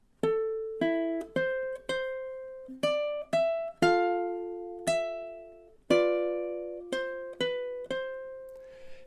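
Ukulele plucking measures 7 and 8 of a song, a slow melody of single notes and chords ringing out one after another with clear attacks and decaying sustain, played close and alone.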